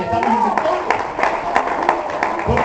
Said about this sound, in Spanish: Denle un aplauso al Señor porque estamos en victoria.